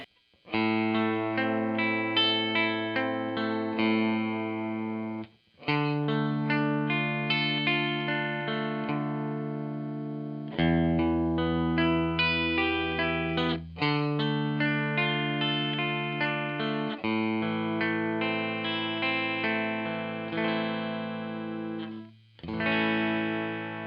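A distorted Telecaster electric guitar on its Lollar 52T bridge pickup plays bright, biting chords with sustained notes and brief gaps, loud and upfront with no voices.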